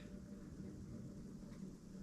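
A steady patter of dense dripping sealant inside a gas tank, like rain falling in an enclosed metal space, continuous and fairly quiet with a low rumbling undertone.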